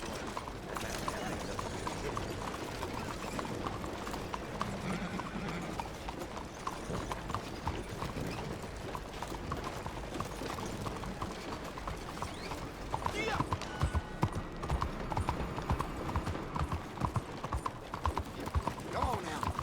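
Horse hooves clip-clop steadily and close in Red Dead Redemption 2, a continuous rhythmic trot with creaks and faint background sounds, while voices talk over it.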